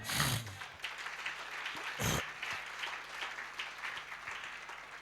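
Church congregation applauding in acclamation, a brief burst of loud clapping and cheering at the start, then scattered softer claps and murmurs continuing in a fairly quiet room.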